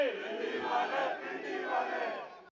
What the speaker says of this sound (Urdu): اس موقع پر انہوں نے کارکنوں سے نعرے بھی لگوائے